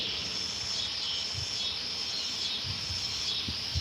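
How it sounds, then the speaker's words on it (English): Cicadas chirping outdoors, a continuous high buzzing drone that stays steady and moderately faint throughout, with a few soft low thumps underneath and no talking. "Y'all hear them cicadas?"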